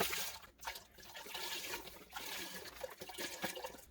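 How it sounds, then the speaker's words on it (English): Chicken stock pours steadily into a big pot with a broad, splashy rush, near and continuous, with small gurgles and drips throughout. "pour your chicken stock into a big pot"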